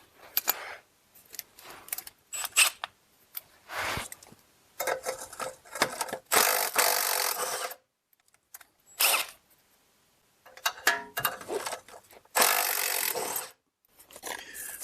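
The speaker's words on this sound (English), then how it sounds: "I just use my M12 multi-tool and I just zipped it right off" An M12 multi-tool cuts off snapped parts during removal of a Ford Escape/Edge 6F35 transmission, giving bursts of buzzing, grinding cuts of varying length separated by short pauses and close handling clatter.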